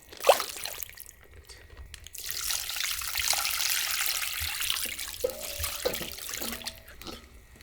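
Broth is poured over white kimchi in a container as a running, splashing stream of liquid. It swells in the middle and trails off into a few drips and small clunks. Nobody speaks.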